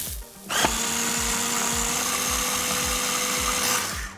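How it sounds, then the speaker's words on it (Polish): A blender purees vegetables for homemade ketchup, whirring steadily at high speed for a few seconds, a loud continuous motor drone that starts abruptly and cuts off at the end. "Wracam do miksowania warzyw."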